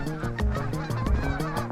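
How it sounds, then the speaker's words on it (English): Geese honk repeatedly in a quick, rhythmic series beside a cold-weather trout fishing spot, loud and close with no talking. "Them geese really want their spot back."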